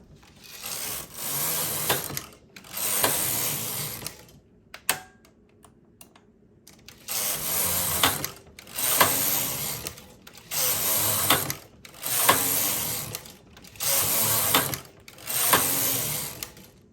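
A knitting machine carriage sweeps back and forth knitting rows with weights added and tension set to 7, a loud rattling whoosh repeating in regular passes of about a second each with brief gaps, one longer pause partway through.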